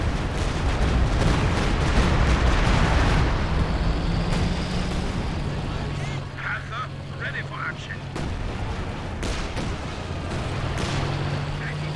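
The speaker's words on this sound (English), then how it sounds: "Another Super barrage running on in." Rocket artillery barrage from a 4v4 Company of Heroes 2 match, a dense rolling rumble of overlapping explosions that stays loud and continuous throughout, with a voice talking over the barrage.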